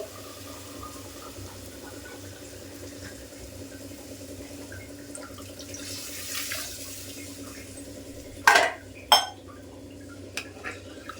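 Water poured into a Rayalaseema-style country chicken curry in a pot, heard as a faint, steady trickle over a low background hum, followed near the end by two sharp metallic clanks and a few light knocks.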